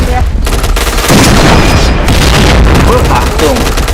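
Dense video game gunfire and booming blasts run continuously under a noisy mix, with rapid shots and explosions layered together and a voice chattering over the game sounds.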